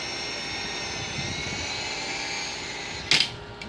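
An Extreme S-8G remote-control helicopter on a test flight in wind, giving a steady high-pitched rotor and motor whine throughout, fairly close, with a brief sharp clatter near the end.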